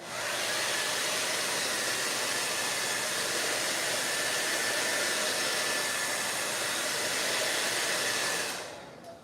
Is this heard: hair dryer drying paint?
yes